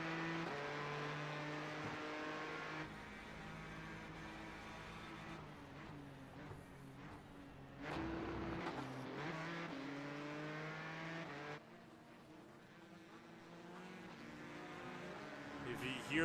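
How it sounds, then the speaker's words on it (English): Several GTE-class race cars buzzing in a tight pack alongside a Corvette's deep engine growl at Sebring International Raceway during a Trans Am Championship race, engines droning continuously with rising and falling revs as the cars pass. "If you hear the little buzzes of these 4 GTEs and the growl of the Corvette"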